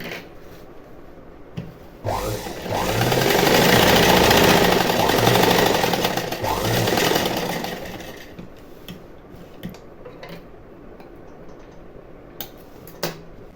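Sewing machine running a long straight stitch along a saree fall, a steady close whirring burst of several seconds that swells and fades, with faint handling rubs before and after.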